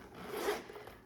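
A zipper being drawn along the zip pocket of a vintage unlined Coach leather roll bag, one continuous close raspy pull of about a second, heard alone.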